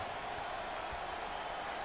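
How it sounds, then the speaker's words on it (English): A basketball arena crowd at a 2020 NCAA Tournament first-round game between North Texas and Wisconsin roars steadily, a dense, loud, unbroken wash of cheering and applause. "Number three wants the fans to keep cheering."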